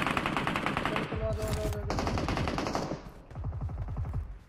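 Rapid automatic gunfire in a battle royale game, fast, steady bursts of shots rattling close and loud, broken by a brief pause before another long burst.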